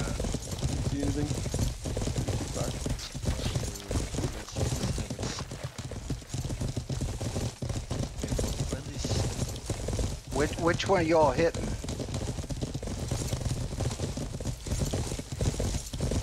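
Horse hooves clip-clop and gallop steadily in a medieval PvP video game, a continuous rhythmic pounding with a brief whinny partway through, running under players chatting over voice chat.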